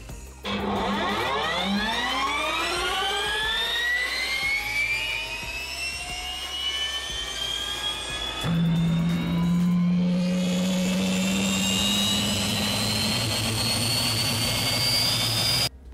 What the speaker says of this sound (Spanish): Este es el sonido que hace el motor eléctrico.